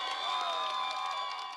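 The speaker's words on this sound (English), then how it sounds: "There were lots of cheering, even jumping Greens this evening too" A crowd cheers and whoops at a local election count in Hackney, a brief, loud, continuous roar of many voices.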